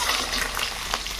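Eggs frying in a pan until browned and reddish, cooking for an egg curry, give a steady, close sizzle and crackle throughout, with no voices.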